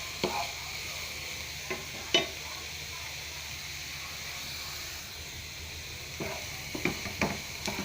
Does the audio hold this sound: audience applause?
no